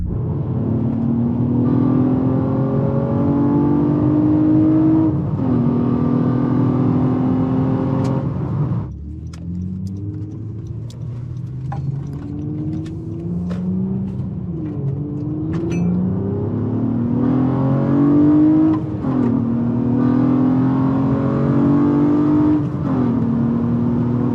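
A 9th-generation Honda Accord V6 with a manual transmission and fresh transmission fluid accelerates hard, its engine revving up loudly through the gears. Rising tones are cut by brief shift breaks, heard from inside the car and without speech.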